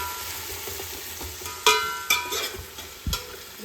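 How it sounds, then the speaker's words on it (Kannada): Tomato fries with onions in a pan for mutton biryani, a steady soft sizzle punctuated by a few distinct scrapes and knocks of a stirring spoon, close and without talk. "ಆ್ಯಡ್ ಮಾಡಿ ಚೆನ್ನಾಗಿ ಫ್ರೈ ಮಾಡಬೇಕು"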